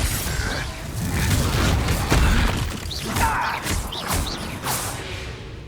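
A Confringo spell blast in the Hogwarts Legacy game, a dense run of booming, whooshing and crashing impacts with magical shimmer, loud and continuous over about six seconds.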